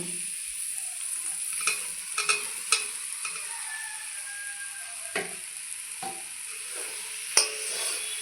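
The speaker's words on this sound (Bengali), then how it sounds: "এখন ভেজে রাখা আলু আর সয়াবিন দিয়ে দিব" Fried potato and soybean chunks stirred into sizzling masala for a vegetarian potato, soybean and paneer dish: a steady hiss of hot oil with scattered spoon clacks and scrapes, close by, with no talk.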